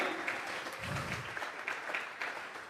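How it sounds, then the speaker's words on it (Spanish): A church congregation claps together in continuous applause during a Bible study service, steady dense clapping throughout with a faint low vocal murmur partway through. "Vamos a regalarle ofrenda de palmas al Dios de la gloria"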